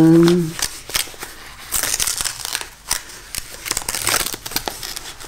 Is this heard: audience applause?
no